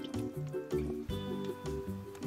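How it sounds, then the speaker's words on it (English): A LOL Surprise Bling series spitting doll being squeezed so it squirts water: short wet squishing and gurgling bursts in quick succession, close and fairly loud. "Let's give her a squeeze and a drink of water. And she's also a spitting doll."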